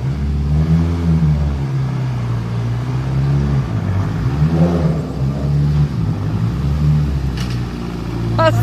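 An off-road tricycle engine runs loud and close after starting, rising and falling through repeated revs over a steady idle, with faint voices in the background.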